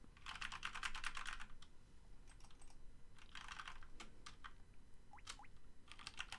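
Bursts of clicky keystrokes on a computer keyboard, quick runs of taps separated by short pauses, close and fairly quiet with no talking.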